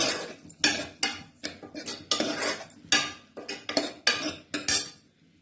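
Broad beans dusted with chilli powder are stirred and sautéed in a pan, the utensil scraping and clattering against the metal in a quick, uneven rhythm of close, bright strokes.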